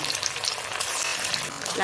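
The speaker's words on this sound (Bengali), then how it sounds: "আমি সমস্ত পনিরগুলো লাল লালভাবে ভেজে তুলে নেব" Cubes of paneer fry in hot oil in a pan over medium heat for chilli paneer, a dense, steady crackling sizzle that stays loud and close throughout with no talking.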